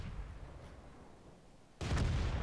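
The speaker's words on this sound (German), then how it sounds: "Schuss ist raus." A T92 self-propelled artillery gun fires once in World of Tanks, a sudden loud, broadband boom that cuts in after quiet background hiss and keeps rumbling to the end.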